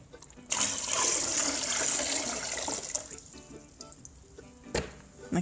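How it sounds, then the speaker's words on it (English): Dirty water from a ball python's bowl pours and splashes steadily into a bucket for several seconds, a loud continuous gush that tapers into trickles and a few knocks. "I keep a bucket here for pouring dirty water out."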